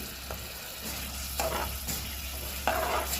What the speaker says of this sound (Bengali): মশলাটা একটু কষাই দেয়